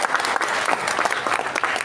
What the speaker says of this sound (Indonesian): Tepuk tangan juga untuk Bapak Viva Yoga.